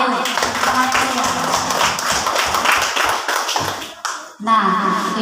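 A classroom of students clapping their hands together in a lively, uneven round of applause that lasts several seconds, mixed with voices and cheering before a brief pause and more talk.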